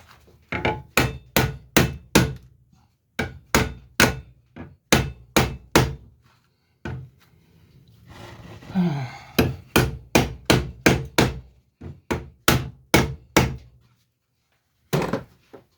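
Repeated sharp hammer blows ring out in fast bursts on a water heater being stripped for copper and brass, loud and close, with pauses between volleys and a brief scraping rustle midway.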